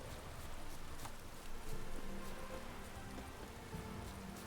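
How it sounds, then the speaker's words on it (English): Rain falling in the video game The Witcher 3: Hearts of Stone, a quiet and even hiss of steady rainfall with faint scattered drop taps and no voices. "It's raining and lightning out."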